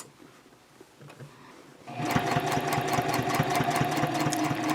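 A sewing machine stitches a round-bottom fabric basket, starting after a quiet moment with a steady, close, rapid mechanical chatter that runs evenly to the end.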